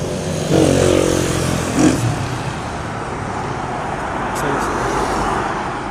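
A motorcycle riding along a road near Santa Barbara, Pangasinan, its steady engine drone continuous and close, with a brief rise around two seconds and general traffic noise mixed in.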